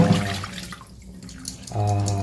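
Water trickles and drips as it drains from monitor lizard fat strained through a screen, a close, steady splashing flow that fades briefly midway before pouring louder again.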